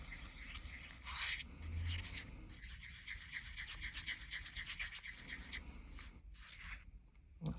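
A tool scrapes and rubs steadily inside a cup of resin, a continuous gritty stirring that carries on for several seconds with brief pauses, close and fairly quiet.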